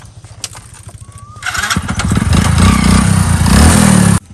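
A motorcycle engine cranks and catches, then idles loudly with a steady rumbling chug that continues to the end.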